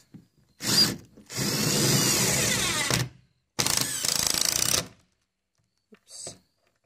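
A power drill drives 2.5 inch screws through OSB sheathing into roof trusses in two long, loud whirring bursts, with a short spin-up at the start and a faint brief buzz near the end.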